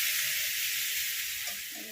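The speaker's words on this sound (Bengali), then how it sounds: "এরপর কড়াইতে তেল দিয়ে দিয়েছি। আলু আর এঁচড়ের টুকরোটা ফ্রাই করে নেব।" Potato and jackfruit pieces fry in hot oil in a wok with a steady, loud, bright hiss and sizzle that tapers slightly toward the end.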